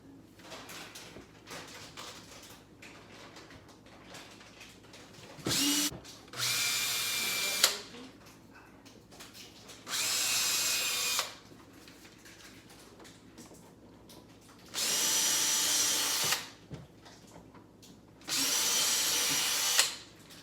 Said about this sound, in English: when drilling through this, You can put some tape just to make sure.